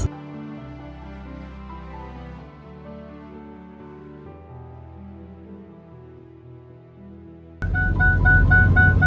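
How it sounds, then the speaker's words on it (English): A steady, repeating car seatbelt warning beep starts near the end over a sudden rise in road and engine rumble, following a stretch of sustained tones. "Sorry about the beeping, that's my seatbelt"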